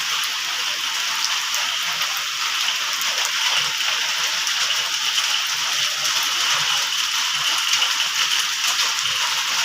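A cyclone's heavy downpour keeps up a loud, even roar of raindrops drumming on surfaces, close and continuous with no pauses or speech.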